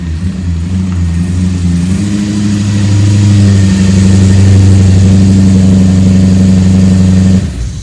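A BMW E30 with a swapped S62 engine rolls into a garage at low speed, its deep engine note rumbling steadily close by and growing a little fuller and louder before cutting off near the end.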